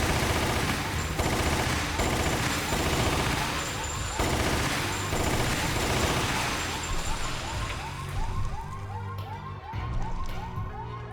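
An antique tank gun fires in the Wii game Resident Evil: The Umbrella Chronicles, a dense, sustained barrage of heavy rapid shots blended with loud game music and effects throughout.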